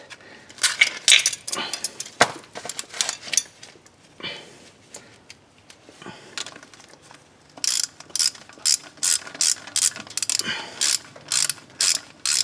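A ratchet snugs a bolt while installing a starter on a 2003 Hyundai Sonata. Close, sharp clicking comes in quick bursts, first irregular and then as a steady run of regular ratchet strokes.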